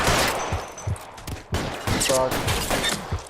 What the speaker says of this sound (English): Yeah, wieder Schießerei.